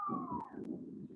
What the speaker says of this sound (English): So you may hear sirens in the background.